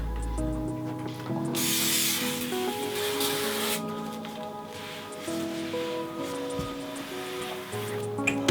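Mr. Shine cleaner sprays from a bottle in a short, close hiss burst, followed by quieter rustling and handling noises with background tones.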